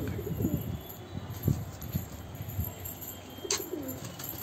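Pigeons coo softly in low, repeated murmurs, with a few brief chirps and a faint flutter of wings close by. No one speaks.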